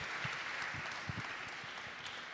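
Audience applause fills a design award presentation hall at the ADI Design Index 2023 event in Milan, a steady, even clapping from many hands that carries on without a break.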